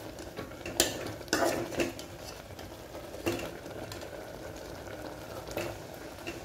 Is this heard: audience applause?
no